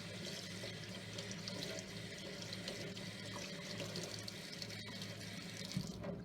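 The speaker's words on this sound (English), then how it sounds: "rinse them with warm or cold water, doesn't really matter" Warm or cold tap water runs steadily over rabbit feet being rinsed in a sink, a continuous close splashing stream that stays even from start to finish.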